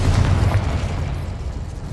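A Confringo blasting spell explodes in the game Hogwarts Legacy, a loud, heavy boom with deep rumbling low end that stays sustained and dense across the whole two seconds, with no talking.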